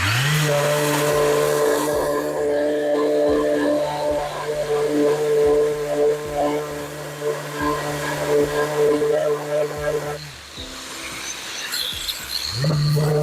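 A loud, steady mechanical whine drones continuously as a small wooden piece is sanded close by, dipping briefly before starting up again near the end.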